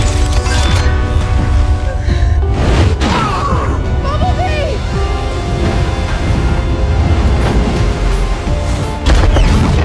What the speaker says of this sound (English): The devastating impact and explosion wiped Shatter out completely.